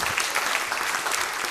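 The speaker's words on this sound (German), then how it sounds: "Riesigen Applaus und alles Gute zum Geburtstag." Audience applause at a Swiss folk music gathering breaks out right after a birthday song, a dense, steady clapping that fills the whole moment without pause.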